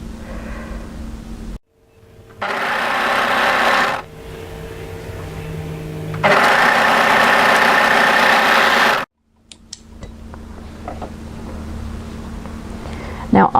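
An overlocker stitches through fabric while sewing a dolman batwing top, its motor whirring in two steady bursts separated by short pauses, with quieter handling noises and a brief stretch of near silence in between.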